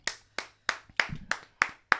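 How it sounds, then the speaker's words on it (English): Clapping on a morning radio show, seven crisp, evenly spaced hand claps close to the microphone, each with a short decay, in an otherwise quiet room. "let's clap"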